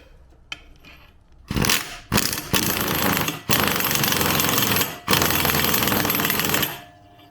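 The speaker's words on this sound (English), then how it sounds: "I'm going to use my impact to see if I can get it off of there" An impact wrench hammers on a puller to remove the sprocket from a 2000 Honda XR200R, starting with a few short rattling bursts and then running in long, loud, continuous chattering runs up close with brief pauses and no talking.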